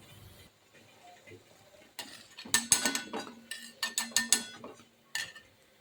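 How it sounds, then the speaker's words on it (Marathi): Fried sweet potato gulab jamun being lifted out of hot oil and dropped into syrup: quiet at first, then a run of close metallic clinks and scrapes of a spoon against a pan, with a light bubbling hum beneath and a final clink. "आपण आता हे काढून पाकामध्ये घालू।"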